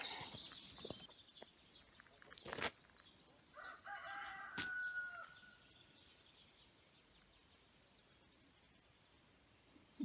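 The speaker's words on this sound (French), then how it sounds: "Juste les oiseaux qui m'accompagnent" Birdsong in quiet countryside along the Camino Francés in May, with a rooster-like crowing call and scattered chirps at moderate distance, two sharp bursts midway, then fading to calm near-silence.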